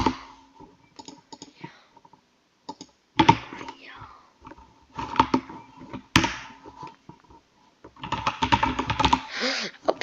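Rapid bursts of computer keyboard keystrokes as a username is typed, close and clear, arriving in irregular clusters separated by short pauses, with a little talk in between.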